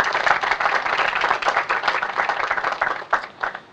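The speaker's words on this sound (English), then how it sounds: "Round of applause, please, for Dennis and his entire team." An audience claps together at a building dedication ceremony, a dense, steady round of applause lasting a few seconds with no voices over it.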